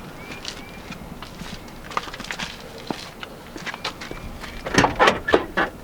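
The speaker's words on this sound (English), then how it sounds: "And the trunk is pretty squeaky." A squeaky car trunk on a car with 183,000 miles opens with scattered creaks and squeaks and some light knocks, growing louder and busier near the end.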